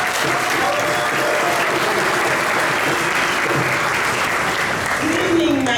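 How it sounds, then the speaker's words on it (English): Steady, dense applause from a crowd honoring an ambassador at an African Union celebration of Haile Selassie's birthday, filling the space evenly throughout with a faint voice rising near the end. "give her a round of applause"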